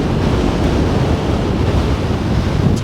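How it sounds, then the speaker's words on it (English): Strong wind at sand dunes in southern Colorado roars steadily into the microphone, a loud broadband buffeting that never lets up, with a surf-like rush underneath. "And it is windy as shit here."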